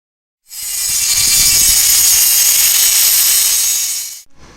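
A Dremel rotary tool's cutoff wheel grinds through a rusted iron water pipe, a loud, steady high-pitched whine with a harsh rasp that runs for about four seconds before the wheel spins down.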